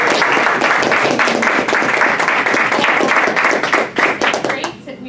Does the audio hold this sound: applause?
yes